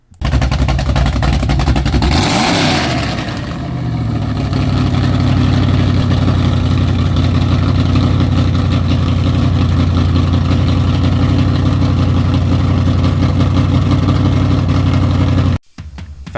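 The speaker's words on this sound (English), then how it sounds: "it came with a 383 stroker that sounded a little bit like this" A 383 stroker V8 in a square body truck rumbles loud and close, with a quick rev near the start before settling into a deep, steady, lopey idle that carries on to the end.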